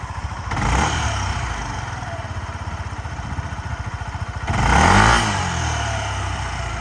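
A Yamaha Majesty 155 S scooter engine idles steadily up close with a soft, even putter, briefly rising in pitch as the throttle is blipped twice.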